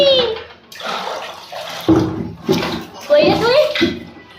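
Water splashing and sloshing while a child is bathed with shampoo, coming in several close bursts amid a child's chatter and an adult's voice throughout.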